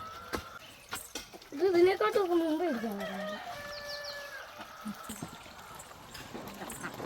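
Brooding hens sitting in straw cluck and call, with one drawn-out, wavering cackle rising early on, then softer scattered clucks and rustling, while a person talks nearby.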